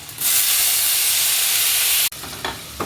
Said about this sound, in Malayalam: നുറുക്കി വെച്ചിരിക്കുന്ന തക്കാളി പച്ചമുളക്